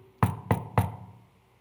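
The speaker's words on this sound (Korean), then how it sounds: "문을 두드리는 소리가 들리죠" Three firm knocks on a door, close and evenly spaced in quick succession, each with a short dull resonance, in an otherwise quiet room.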